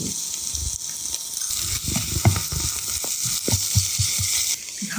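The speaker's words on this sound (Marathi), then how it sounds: "हळद आणि आलं लसूण पेस्ट तेलामध्ये घातली" Ginger garlic paste and turmeric sizzle and fry in hot oil with onion, with a steady close hiss and bursts of crackling and stirring scrapes throughout.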